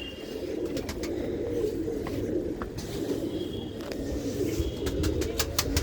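A flock of pigeons kept by Punjabi pigeon fanciers coos steadily, a dense low burbling that fills the scene, broken by a few sharp clicks and chirps near the end.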